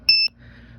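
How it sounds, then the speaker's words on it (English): A Raspberry Pi Pico W doorbell gives one short, bright, alarm-like electronic beep lasting about a fifth of a second, followed by a low steady background hum. "It sounds like more of an alarm rather than a doorbell."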